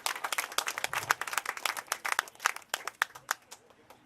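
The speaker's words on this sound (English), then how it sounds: "if we can just give him a round of applause to let him know that we acknowledge him" An audience at a fight night press conference applauds a fighter who is not there: dense, lively clapping that rises and falls over about four seconds, with no voices over it.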